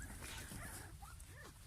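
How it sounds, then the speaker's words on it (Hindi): Guard dogs kept at a large property, faint, distant barking and yelping with a few short yips over a noisy background. "यहाँ पे कुत्ते रखे हुए हैं अपनी रखवाली के लिए।"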